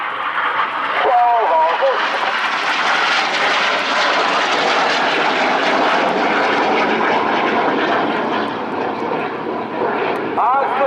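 Red Arrows jets roar loudly past at an RAF air display at RIAT, a broad sustained rushing engine noise that swells and fades, with a commentator talking over it.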